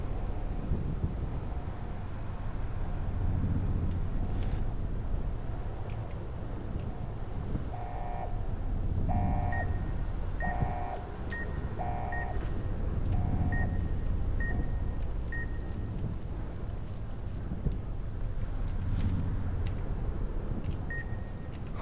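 Repeating electronic alarm beeps from the Sierra Madre vault in Fallout: New Vegas, pulsing in regular short bursts over a low rumbling drone, moderately loud with no talking.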